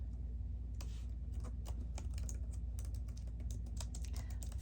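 Typing on a computer keyboard, a quick irregular run of light key clicks over a low steady hum, close and continuous.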